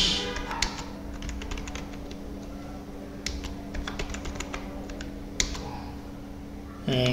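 Rapid clicking of a computer keyboard while entering data into an Excel form, steady irregular keystrokes at close range over faint background hum, with a few louder taps near the end.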